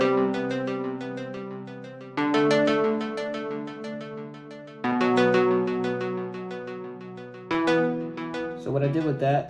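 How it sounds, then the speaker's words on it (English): Bright 80s-style synth pluck programmed in FL Studio for a nostalgic R&B beat, playing a repeating melodic pattern in rhythmic phrases with sustained chordal layers beneath, close and clear, with no talking. "The next thing I added was this Pluck from the same 80s kit that I have"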